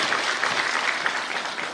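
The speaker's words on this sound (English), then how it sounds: "Once again, another big round of applause" Continuous crowd clapping at a Zambian housing commissioning event, even and unbroken, a full audience applauding briefly with no speech.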